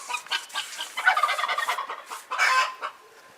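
Backyard chickens on a rural property cluck and squawk in bursts, a lively run of close, fairly loud calls with short pauses between, no talking over them.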